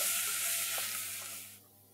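Onions and chili flakes fry in a hot pan with a loud, steady sizzle and hiss that fades noticeably toward the end.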